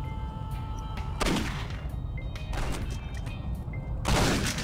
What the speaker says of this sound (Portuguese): Sai, vai explodir, quer ver?